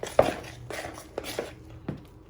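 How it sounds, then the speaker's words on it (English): A spoon stirs cocoa powder into banana and chocolate chip muffin batter in a bowl, giving a few distinct scraping knocks against the bowl with quiet gaps between them. "Now you add in your cocoa powder, get it all out. And you just give it a good stir in."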